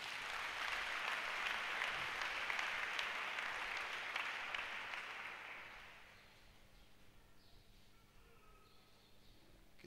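A church congregation applauds and cheers for about six seconds, a broad wash of clapping that then fades away, leaving a faint quiet room with a few distant high chirps.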